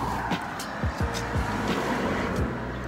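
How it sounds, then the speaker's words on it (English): A car rushes past close by on a street, a quick loud whoosh over steady traffic rumble, with fainter vehicles sweeping by in the background. "just getting near to get hit by a car"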